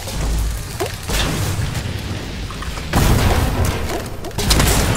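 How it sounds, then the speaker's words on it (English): Grenade blast in a multiplayer shooter game: a loud booming burst near the three-second mark, with another heavy thump toward the end, amid continuous rumbling game noise and some voices. "That's a really good grenade."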